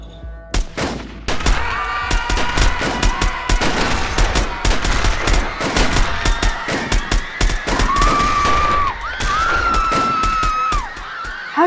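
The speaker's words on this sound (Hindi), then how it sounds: "हर तरफ गोलियां बरसने लगी" Rapid, relentless gunfire rattles for the whole stretch, volleys and single shots overlapping, with shrill wailing tones rising over the shooting toward the end, depicting General Dyer's troops firing on a gathering in Amritsar.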